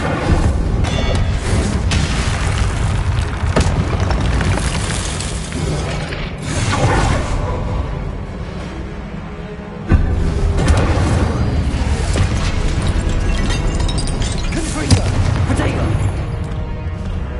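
Confringo fire spells blasting in Hogwarts Legacy hit with loud, booming explosions over busy game sound and a talking voice, with a sharp burst near the middle.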